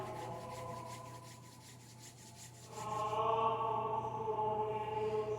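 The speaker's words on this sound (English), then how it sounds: "You just put your palms together and rub your face and then shake that out." Palms rub briskly together in a rhythmic, close-up swishing, then the friction shifts into a smoother, fuller rubbing as the hands move over the face.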